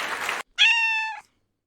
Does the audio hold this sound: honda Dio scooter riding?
no